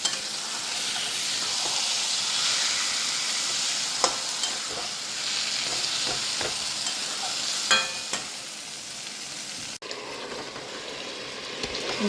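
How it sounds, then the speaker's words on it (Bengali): Taro greens, papaya and hilsa fish head stir-fried in a pan for a Bengali lunch dish, giving a continuous close sizzle with occasional scrapes and clinks of a stirring spoon, and no voices. "ভালো করে কষিয়ে নিচ্ছি।"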